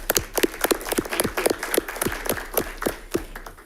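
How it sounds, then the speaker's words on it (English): A small group at a school district board meeting claps in sparse, distinct hand claps, each one audible, for a few seconds in a quiet room. "Give you a round of applause."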